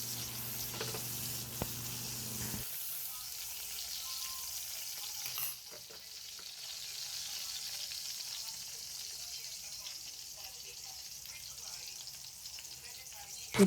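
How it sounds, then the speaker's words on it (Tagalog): Hotdogs fry in a pan at breakfast with a steady hiss of sizzling oil, louder for the first few seconds and then settling into a softer crackle, with faint kitchen clatter. "Ito ako, nagluluto ng hotdog."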